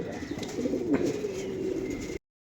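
Racing pigeons coo in a low, continuous murmur close by, with soft flutters in the background before it cuts off.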